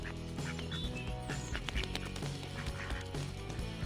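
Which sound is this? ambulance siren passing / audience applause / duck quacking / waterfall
duck quacking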